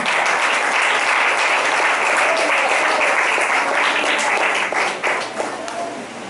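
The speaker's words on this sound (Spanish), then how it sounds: "Déjale fuerte aplauso al Señor." Loud, dense applause from a church congregation fills the space steadily, then thins slightly near the end as a few scattered claps and voices emerge.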